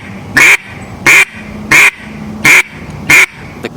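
A handheld duck call is blown to imitate a duck's quack, sounding five loud, evenly spaced quacks over a low background hum.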